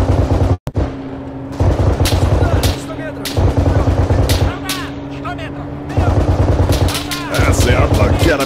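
Automatic and single gunfire from an Arma 3 firefight, loud rapid bursts of shots with sharp echoing cracks, pausing briefly and resuming in repeated volleys; voices talk over the shooting.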